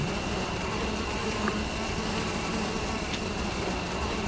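Steady, close insect buzzing from a swarm of bees in the video game Zork: Grand Inquisitor, a continuous droning hum that holds even throughout, with no voices.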